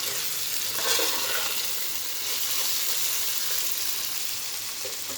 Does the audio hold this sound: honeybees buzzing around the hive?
no